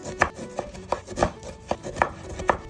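A knife chops limes on a cutting board in a steady rhythm, with about eight crisp, evenly spaced strikes and no talking.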